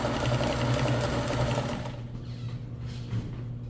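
Kenmore 158.1400 sewing machine stitching across a fabric seam, a loud steady whir of rapid needle strokes close by that stops partway through, leaving a quieter hum.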